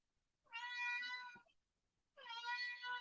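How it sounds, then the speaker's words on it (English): A domestic cat meows twice, each call long and drawn-out, with a short pause between them. Both are heard clearly indoors against near-silence. "I'm gonna let the cat out because she will not stop meowing at me."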